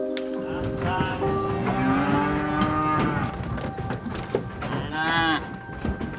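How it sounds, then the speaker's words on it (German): A herd of cows on a summer pasture moos repeatedly, several long, loud calls overlapping one another above a constant rumbling background. "Die Kühe, die schon auf der Weide sind, galoppieren den Neuankömmlingen entgegen."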